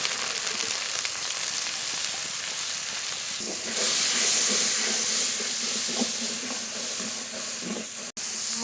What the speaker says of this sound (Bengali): এবার যে মশলাটা পেস্ট করে রেখেছিলাম মশলার পেস্ট দিয়ে দেবো